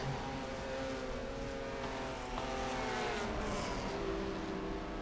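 Race cars in a racing video game drive by together in a dense, continuous engine roar with rising and falling pitches, loud and steady with no voices.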